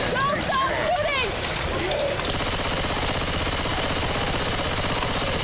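Rapid bursts of automatic gunfire in the zombie shooter Left 4 Dead 2, loud and dense, coming after a stretch of voices and in-game chatter and then running continuously to the end.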